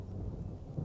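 Low rolling thunder rumbles through a light drizzle just starting, with soft steady rain noise underneath; fairly faint and continuous with a slight swell near the end.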